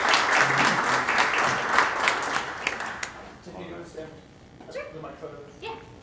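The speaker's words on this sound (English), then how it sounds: "Give a round of applause." Audience applause at a startup pitch event, a full burst of clapping for about three seconds, then fading into scattered claps and voices as people talk nearby.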